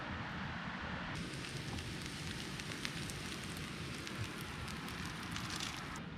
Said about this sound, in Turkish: Valla bu bulduğumuz kumaş o kadar güzel yanıyor ki